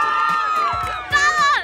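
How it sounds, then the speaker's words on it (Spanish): Crowd cheering and whooping at a roast-style show, rising in a brief loud burst near the end, mixed with high shouted voices. "Un aplauso para ella."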